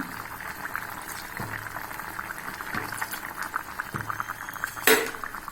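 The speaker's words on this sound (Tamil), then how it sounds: "இப்போ நம்ம கொஞ்சம் கொதிச்சோன்னா நம்ம இறக்கிற வேண்டியதாங்க" Vazhakkai (raw banana) gravy bubbles in a pan, a soft continuous simmering burble with a few faint low pops and one brief louder clink near the end.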